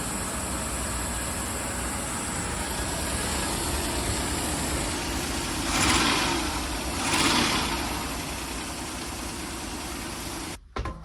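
A 1977 GMC Motorhome engine runs steadily at idle, a continuous broad rumble with two brief swells as it revs slightly, then cuts off abruptly near the end.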